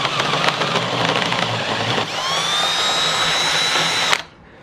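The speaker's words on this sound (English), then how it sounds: "we've cut the 1 inch hole through the transmission jack adapter base" Power tool cutting a 1 inch hole through a steel transmission jack adapter base, a loud, steady high-pitched whine and grind that shifts pitch midway, then stops abruptly, leaving a low hum.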